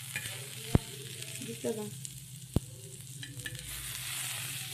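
Val bean pods are sautéed and stirred in a pan, giving a soft, low sizzle broken by a few sharp spatula knocks against the metal, with brief quiet speech over it.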